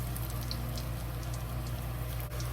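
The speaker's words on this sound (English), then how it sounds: "Just keep repeat to fry all the eggplant and drain the oil." Eggplant fries in a pot of oil with a dense, steady bubbling crackle that is close and continuous throughout.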